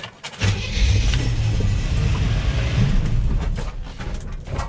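A $500 Chevy van's engine revs hard and steadily during a burnout, loud and close, with a rough, sputtering carburetor running under a continuous roaring drone and no talk.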